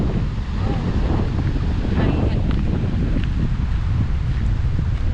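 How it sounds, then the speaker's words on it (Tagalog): Strong wind buffets the microphone on a trail at Elbow Falls in Alberta, Canada, a steady loud roaring rumble lasting throughout with no clear voices. "Pagpasensyahan nyo na kung ang maririnig nyo sa video na ito ay puro hangin."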